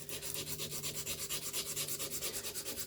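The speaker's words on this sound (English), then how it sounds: "while hand sanding" Hand sanding a chef knife blade with sandpaper: steady rhythmic back-and-forth rubbing strokes, close and fairly soft, repeating about five times per second throughout with no talking.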